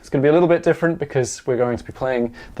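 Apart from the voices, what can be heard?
No everyday noise stands out behind the speech.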